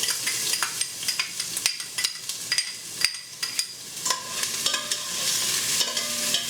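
Onion frying in shimmering olive oil crackles and sizzles up close while a utensil stirs and scrapes it in quick, uneven strokes, with no talking.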